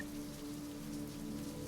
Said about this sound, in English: the rain pelts on skylights overhead